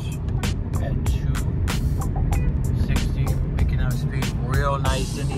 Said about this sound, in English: we're on the highway right now, doing about 60, picking up speed